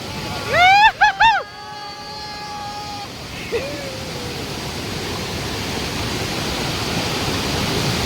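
Njandirukki waterfall near Thodupuzha pours with a steady, broad roar of falling water; a voice calls out briefly at the start, and the rushing sound carries on alone.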